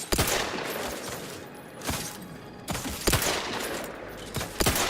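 Sci-fi gunfire from The Outer Worlds 2 crackles in repeated bursts, several loud sharp shots spaced about a second apart over a steady background of game ambience, with no talking.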